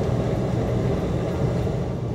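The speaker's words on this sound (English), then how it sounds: "I'm on a train to Seattle" Steady low rumble and rattle of a moving train to Seattle heard from inside, constant and fairly loud, with no voices.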